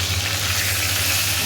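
Pieces of catla fish fry in hot oil, giving a steady, close sizzle that hisses evenly throughout without any voices.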